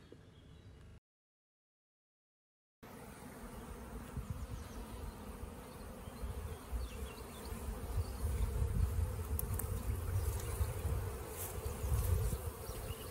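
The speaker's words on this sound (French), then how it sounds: "de plus en plus d'abeilles dans les ruches et une activité croissante" Many honey bees hum busily around spring beehives in an apiary, a dense continuous buzz that cuts out for a couple of seconds, then returns and grows fuller.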